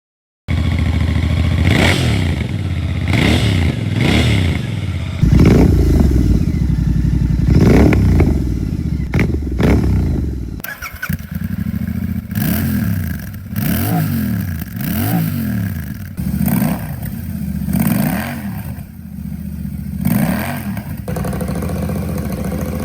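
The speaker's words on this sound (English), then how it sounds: "the exhaust notes comparison that's coming up right now" A Royal Enfield Bear 650 motorcycle engine revs repeatedly, rising and falling in pitch with a deep throaty exhaust rumble, loud and close throughout.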